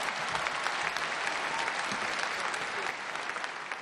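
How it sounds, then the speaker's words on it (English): A crowd at a Jubilee mass at the Vatican applauds Pope Francis with sustained, warm clapping that stays dense and even, then eases slightly toward the end. "The crowd applauded warmly as the Pope, visibly frail but smiling, made his way from the altar."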